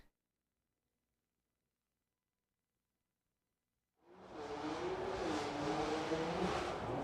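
A car engine in the GTA video game roars into a sustained rev after a few seconds of silence, loud and steady with a rising, whirring tone.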